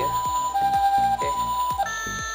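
A Tomica Town toy's electronic truck reversing beeper sounds in a steady run of loud tones, repeating at a regular pace alongside rhythmic low thumps.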